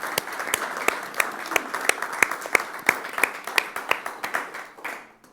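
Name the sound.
audience applause at a conference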